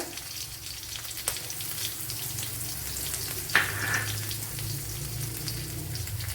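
Green chillies and cumin seeds sizzle in hot oil with a continuous bright crackle, and a sharp clink and a brief splash of sound rise above it midway.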